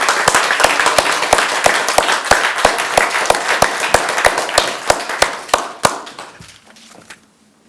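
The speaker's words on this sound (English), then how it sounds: "please join me in a round of applause for these fine officers" Audience at a military anesthesia nursing graduation claps for the officers, a steady run of sharp, evenly spaced claps over a bed of wider applause that thins and fades out over the last second or so.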